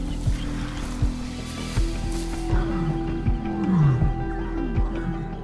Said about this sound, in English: One lion reacts immediately, striking fiercely with overwhelming claws and jaws to drive the intruder back.